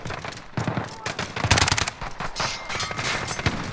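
Gunfire in Call of Duty: Modern Warfare, rapid automatic bursts and single shots crackling close and loud in uneven volleys, with players talking over the firing.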